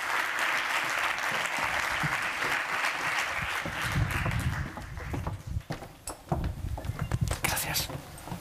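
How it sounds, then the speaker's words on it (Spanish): An audience at a conference on dual vocational training applauds as the president of Spain's Economic and Social Council takes the stage; a sustained wash of clapping thins out, then footsteps and stage movement follow. "un fuerte aplauso para él."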